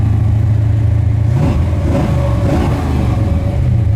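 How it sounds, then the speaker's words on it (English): The 350 V8 of a 1970 Chevrolet Nova rumbles loudly and revs up through its dual exhaust, climbing in pitch before settling back to a throaty idle. "This little 350 sounds good. It's got nice dual exhaust"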